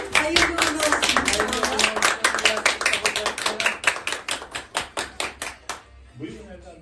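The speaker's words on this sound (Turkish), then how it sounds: "Evet, ben alkışlıyorum herkesin yerine." A single person claps hands at an engagement celebration, a steady run of about two dozen quick, close, sharp claps over six seconds that then stops as a voice briefly comes in.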